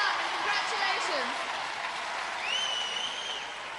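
A television game show audience applauds a contestant with steady, dense clapping and a few cheers, while a presenter's voice carries over the top.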